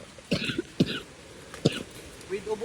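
A woman gives several short, sharp coughs spaced across a couple of seconds, close and loud, with a brief throat-clearing rasp at the end.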